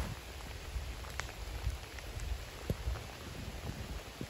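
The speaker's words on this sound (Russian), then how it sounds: "Дождь у нас фигачит, блин, не прекращается." Heavy, unrelenting rain during a fishing trip, a quiet, steady hiss with scattered soft drops and taps close by, and no voices.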